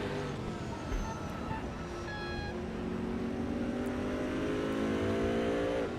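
Chevrolet Camaro and Corvette GT race cars at Brands Hatch, a steady loud engine drone with rising gear-pitch whines, one car accelerating and passing while another holds a high rev behind it.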